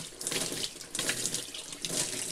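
Tap water runs steadily into the tub of a semi-automatic washing machine, a continuous close hiss and splash that surges slightly a few times over its span, with no talking.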